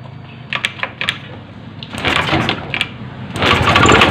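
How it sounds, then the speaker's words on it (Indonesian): A fuel-injected Honda motorcycle is kick-started: a few sharp mechanical clicks from the kick lever, then the engine catches and runs with a rising, rough rattle close by. "sekarang kita hidupin motornya ya"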